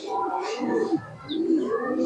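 Pulsar bloodline racing pigeons coo softly and continuously at close range, low throaty rolling calls with a faint higher chirp, over light background murmur.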